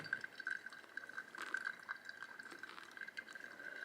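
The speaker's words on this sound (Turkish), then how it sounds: "1'e 4 ile 96 derecelik suyla hemen 8 litre" Hot water at 96 °C trickles in a thin, steady stream over ground coffee, a faint close-up splashing pour with a sustained ringing tone and no talk.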